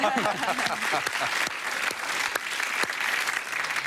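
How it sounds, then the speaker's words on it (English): A studio audience at a letters-and-numbers quiz show claps for a contestant, with a voice talking over the first second before the steady applause continues alone, including a few sharper claps standing out. "I think we should give him a clap"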